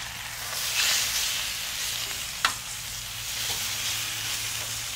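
NY strip steaks sizzle on a small hot breakfast griddle, a steady close hiss of frying fat with no talk, broken by one brief sharp click partway through.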